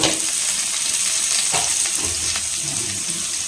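Onion, green chilli and chopped curry leaves sizzle in an oiled pan for an evening snack, a continuous close frying hiss with a few scraping stirs of a spoon partway through.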